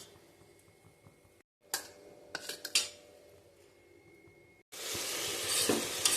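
Cardamom, clove and star anise frying in coconut oil for egg kurma: quiet sizzle with a few sharp spoon-against-pan clinks and stirs, then a sudden loud burst of frying hiss near the end.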